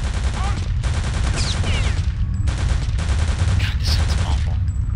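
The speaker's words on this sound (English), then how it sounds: "why are you shooting at me" Enemy soldiers open fire in the Return to Castle Wolfenstein video game, loud rapid automatic gunfire in sustained bursts separated by short gaps, close and dominant over a low rumble.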